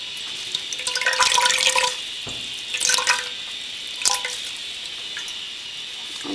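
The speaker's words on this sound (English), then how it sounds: "I'm just squeezing out some of the wine in case I decide to reuse this bath or something." Merlot wine dye wrung out of soaked yarn, giving bursts of liquid splashing and dripping into a bath, three separate squeezes with trickles between, close and moderately loud, no voices.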